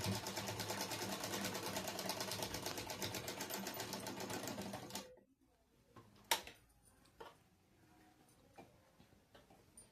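A sewing machine stitches along fabric lining, running steadily with a dense rhythmic whir and tick for about five seconds before stopping, followed by quiet handling clicks and taps.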